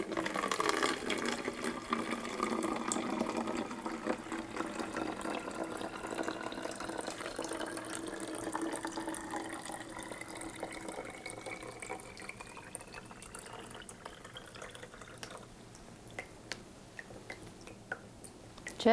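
Water pours into a plastic bottle fitted with a straw in a simple water fountain science demonstration, a rising gurgling fill whose pitch climbs steadily before settling into scattered drips and trickles as the pour tapers off.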